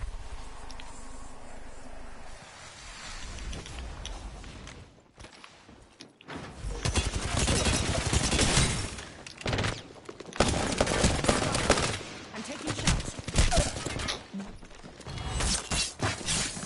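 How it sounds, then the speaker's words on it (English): Video game gunfire in a multiplayer shooter, starting with quieter mechanical rattling and then erupting into loud, sustained bursts of rapid automatic fire with brief gaps between volleys. "They spotted me. I'm taking shots."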